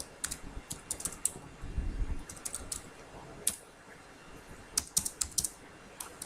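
Fingers typing a column name on a computer keyboard during Python data-analysis work: quick bursts of light key clicks separated by short pauses, close and fairly quiet over a faint background hum.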